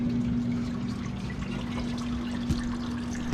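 Coolant draining from a 1963 IH Farmall 806 tractor ahead of a water pump replacement, a steady, faint trickle of liquid running continuously with a low background hum and no voices.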